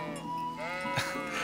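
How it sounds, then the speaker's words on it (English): In Kingdom Come Deliverance, a flock of sheep under herding lets out repeated close bleats, one after another, with a brief soft thump amid steady background game music. "I am herding sheep."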